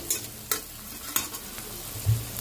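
Pumpkin and potato peels stir-frying in a pan: a soft, steady sizzle broken by a few distinct scraping stirs close by.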